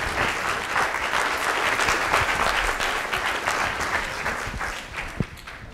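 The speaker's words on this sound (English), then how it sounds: "Let's put your hands together. Stand on up. Active applause here." Sustained audience applause fills the room at a public health talk on the built environment, a dense, steady wash of clapping that holds strong throughout and only slightly thins toward the end.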